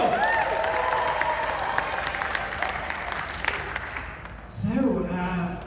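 Festival audience at a live comedy trial show applauds and cheers, a dense wash of clapping that eases off before a voice starts talking near the end.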